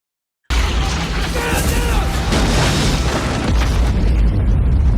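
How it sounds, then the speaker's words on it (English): A sudden loud practical-effects explosion in the 1994 film Clear and Present Danger booms in and rumbles on as a dense, roaring blast that keeps going without fading. "It has to be a real explosion."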